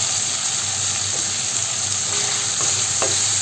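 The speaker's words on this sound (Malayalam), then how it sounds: "ഇതിനെ ഇങ്ങനെ ഇളക്കിക്കൊണ്ട് നമുക്കൊന്ന് ഫ്രൈ ചെയ്തെടുക്കാം" Chicken sausage seasoned with pepper powder is stirred and fried in a pan, giving a steady close sizzle with occasional scrapes and spoon taps, with no talking.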